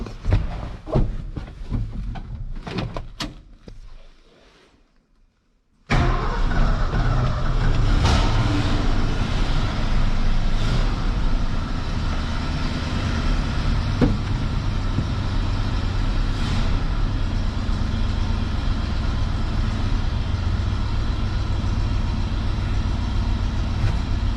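A 1973 Ford F100 pickup, sitting unused for 13 years, cranks briefly, goes quiet, then fires and settles into a loud, steady idle that runs on close by.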